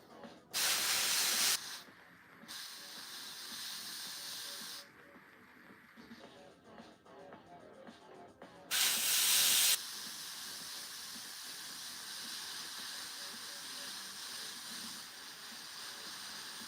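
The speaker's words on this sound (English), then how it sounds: "so that's just the base coat with the airbrush" An airbrush spraying green base coat paint onto a Warhammer miniature, two loud bursts of close hissing spray separated by a long stretch of softer steady hiss and faint background noise.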